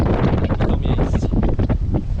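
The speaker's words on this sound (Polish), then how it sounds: "Bo tu trochę wieje." Strong wind buffets the microphone on a beach at the southern tip of Rhodes, a loud continuous roaring rumble with gusting swells throughout.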